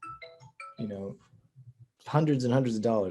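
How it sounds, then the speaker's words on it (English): A phone rings for an incoming call, giving a brief run of short melodic ringtone notes, and a voice then talks over and after it. "Sorry, I got a phone call."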